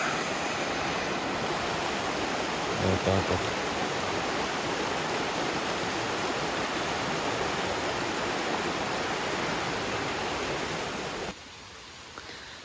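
A swollen mountain river in the Carpathians after a flood that washed out the road gives a loud, steady roar of rushing water. It cuts abruptly to a quieter wash near the end, with a brief voice.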